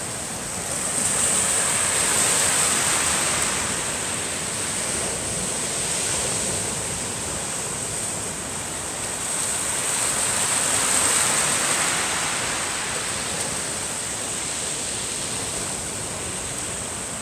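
Ocean waves wash onto the rocky shore of Sumiyoshi beach in Shikoku, a steady broad roar of surf that swells and eases in slow surges, with wind noise on the microphone and no voices.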